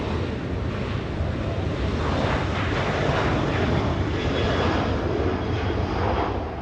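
Qatar Airways airliner at Los Angeles International Airport, a loud, steady jet roar that swells gently in the middle and holds throughout, close and continuous with no talk.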